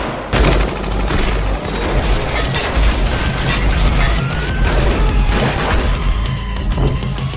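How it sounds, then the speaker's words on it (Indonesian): Film gunfight between loyal henchmen and an opposing squad: dense, continuous rattling gunfire with booms and crashes, loud and unbroken throughout, no talk. "di tengah baku tembak antara anak buah setia Mukun dengan pasukan Herta"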